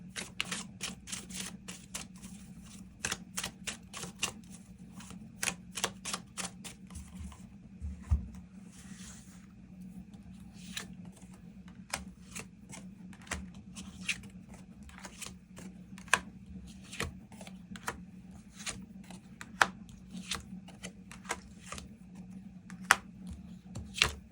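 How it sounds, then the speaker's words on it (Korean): Tarot cards are shuffled and drawn for a love reading: a quiet run of light, irregular card clicks, flicks and soft rubbing, close and sparse, with no voice. "추가 카드 뽑아보도록 하겠습니다"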